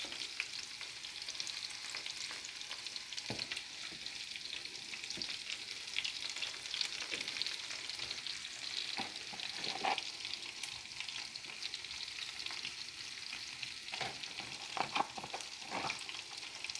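Mussels crackle and sizzle steadily as they fry in a hot pan, with occasional louder pops and spatters throughout.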